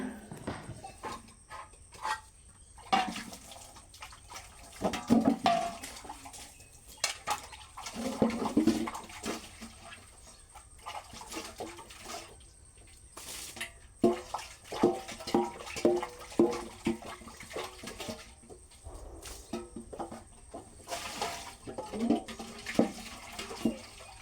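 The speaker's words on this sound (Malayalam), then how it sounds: "നമ്മൾ ഈ അമ്മിത്തറമ വെച്ചിട്ടാണ് കേട്ടോ പാത്രങ്ങളൊക്കെ കഴുകുക" Intermittent splashing and clinking of water and dishes being rinsed on a stone grinding-slab platform, in uneven bursts with quiet gaps, close by and without talk.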